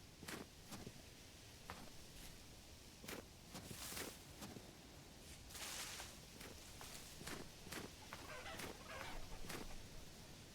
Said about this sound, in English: Well, there's the chickens.